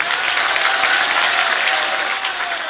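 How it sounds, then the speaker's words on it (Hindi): A large crowd at a Rahul Gandhi election rally in Kichha, Uttarakhand, claps loudly and continuously, a dense, even wash of applause with no pause. "यदि तैयार हैं तो जरा ताली बजा करके हाँ कहिए।"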